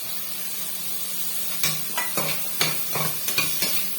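Tomatoes are sautéing over ginger-garlic paste for a vegetable kurma. A constant soft sizzle runs throughout, and after a quiet start a spatula stirs and scrapes the pan in several distinct strokes.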